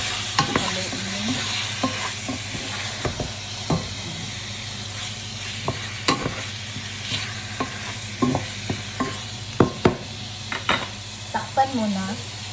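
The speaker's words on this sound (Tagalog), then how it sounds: "Haluin mo." Chicken hearts cooking as igado with bay leaves, peppercorns and salt are stirred in a sizzling pan, steady frying hiss under repeated clacks and scrapes of the spoon against metal, louder near the end, with no talking.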